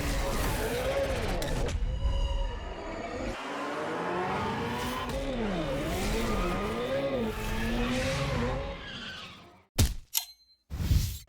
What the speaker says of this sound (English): it can do a mean burnout and all-wheel drive donuts